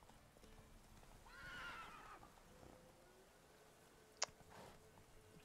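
A horse in The Witcher 3 whinnies briefly at moderate distance, followed a few seconds later by a sharp, sudden click-like hit against quiet game ambience.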